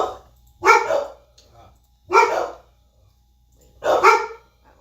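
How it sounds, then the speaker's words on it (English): A dog barks in three separate loud bursts spaced about 1.5 seconds apart, close by, with quiet gaps between them and no talk over the barks. "Dog. Please shut up."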